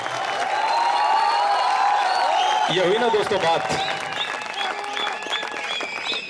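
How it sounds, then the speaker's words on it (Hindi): Loud, sustained applause and cheering from an audience at a Hindi kavi sammelan poetry recital at IIT Jodhpur, washing over someone speaking into the microphone, then tapering slightly near the end. "एक बार जोरदार ताली वाली बजा के बताओ"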